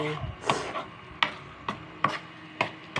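A spatula works through a pan of ampalaya (bitter gourd) dish, making sharp scraping and clacking strokes at a steady rhythm about every half second, close and fairly quiet.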